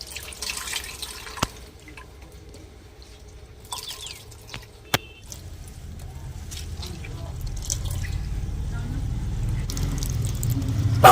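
Water drips and trickles as wet radish leaves are squeezed out by hand over a pan in a home kitchen, a few sharp isolated drops early on giving way to a steadier, louder patter of liquid.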